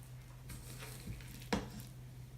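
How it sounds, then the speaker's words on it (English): A spoon stirring no-knead bread dough of flour and water in a bowl, soft scraping strokes with one sharper knock, under a steady low hum. "We are just going to stir until we get a shaggy mass and fairly well distributed ingredients."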